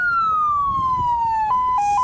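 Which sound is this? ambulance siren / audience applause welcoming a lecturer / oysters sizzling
ambulance siren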